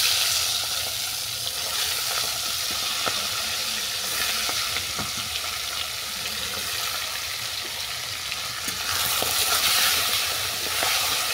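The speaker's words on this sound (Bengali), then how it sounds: "এর মধ্যেই মাছের মাথাগুলো ছেড়ে দিচ্ছি।" Fish heads coated in turmeric sizzle steadily in hot oil, a loud, constant frying hiss with occasional small pops and clinks, close up and with no talking.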